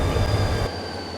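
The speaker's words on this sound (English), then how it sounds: "The S train finally starts to leave." An S train pulls away from a station, a loud close rumble of rail wheels with a high squealing whine that drops to a quieter steady roll after a moment.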